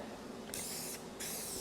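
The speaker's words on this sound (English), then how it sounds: "This is a spray adhesive by 3M that just comes in an aerosol can." 3M Super 90 spray adhesive from an aerosol can, used on laminate countertops: two bright, hissing sprays, each lasting under half a second, with a brief gap between them over a steady background hiss, close and without speech.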